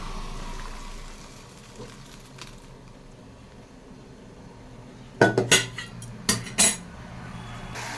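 Metal pots clank sharply as cooked rice is tipped into a basket to drain, a cluster of loud close knocks and clatters after a quiet hissing stretch.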